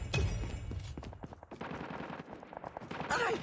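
Rapid automatic gunfire in Call of Duty Mobile, close, crackling bursts of shots with brief gaps, a voice briefly heard among them.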